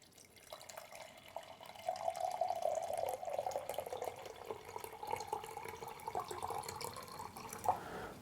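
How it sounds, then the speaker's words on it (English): Water pours steadily into a kettle being filled to 16 ounces, a faint continuous splashing trickle whose pitch rises gradually as the vessel fills, with no talking. "So we're gonna fill it all the way up to 16 ounces"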